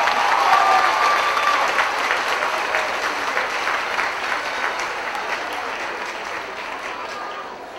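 Sustained audience applause at a university commencement ceremony, a dense wash of clapping from a large crowd that gradually tapers off.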